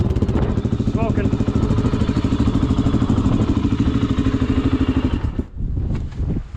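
A smoky motorcycle engine, freshly washed, idles close by with a steady rapid chugging pulse for several seconds before a brief dip and recovery.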